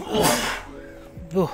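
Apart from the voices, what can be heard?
sneeze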